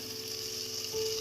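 Ginger garlic paste fries in a pan for rajma gravy, giving a soft, steady sizzle that swells slightly toward the end of the short moment.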